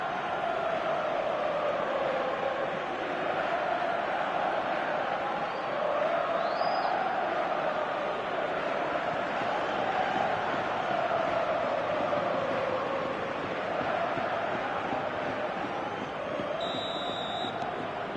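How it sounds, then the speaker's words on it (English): A large stadium crowd in an eFootball match roars and chants in a sustained, swelling wash of massed voices, steady and fairly loud throughout. "Now the crowd are demanding that they just finish this off."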